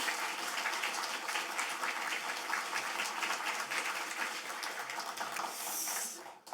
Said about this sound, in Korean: 우리 큰 박수로 이삭 선교사님 환영하도록 하겠습니다